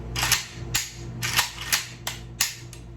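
Sharp metallic clicks from a CZ Scorpion 3 Plus pistol-caliber carbine being function checked after reassembly, about six crisp dry-fire and charging clicks spaced irregularly, close and alone with no talk.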